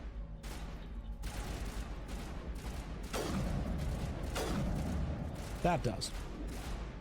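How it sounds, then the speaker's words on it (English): Sniper rifle shots ring out in the Mass Effect video game as a string of sharp reports spread through the clip, with game mechanisms clicking and a voice talking over them. "Okay, we're just going sniper from now on. We're doing some sniping."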